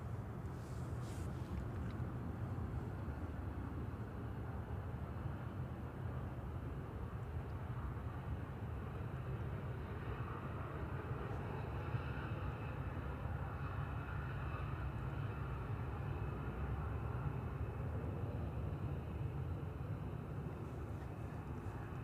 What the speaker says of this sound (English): Still hear that tiny little jet.